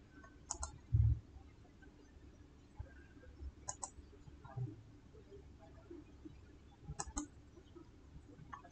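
A computer mouse clicks quietly in a few sharp, spaced bursts, some as quick double clicks, over a faint low background hum.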